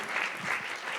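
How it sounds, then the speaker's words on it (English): An audience at a storytelling slam claps steadily in a dense, even wash of applause lasting about a second, with no individual claps standing out. "Keep that applause going."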